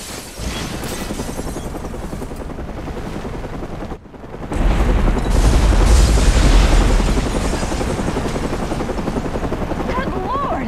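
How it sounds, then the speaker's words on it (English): A massive explosion at the Gotham Royal Hotel in Batman: Arkham Origins, a sustained loud roar that breaks off briefly, then surges back as a heavier rumbling blast with a deep low-end swell. "This is Vicki Vale reporting live from the Gotham Royal Hotel, where there has just been a massive explosion."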